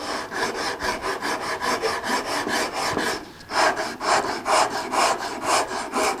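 Sandpaper of 80 grit rubs back and forth across wood to remove blade marks, making a close, rhythmic rasping of roughly three strokes per second, with a short pause midway and no speech.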